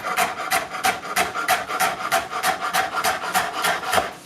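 Knife cuts through rolled kale leaves on a cutting board in quick, steady chops, about two per second, each a close, crisp crunch making a brisk run of slicing.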